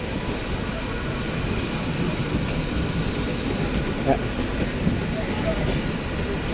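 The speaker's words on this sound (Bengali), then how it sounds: "চার নম্বর প্ল্যাটফর্মে ঢোকাচ্ছে ট্রেনটা" A train pulling into platform four at Sealdah station gives a steady, broad rumble of rolling stock with a faint squeal or two, loud and continuous throughout.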